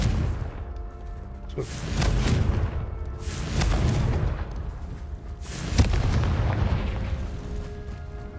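Confringo spell blasts in the video game Hogwarts Legacy go off as a series of heavy rumbling explosions, three or four booming bursts with rolling low-end tails, loud and close.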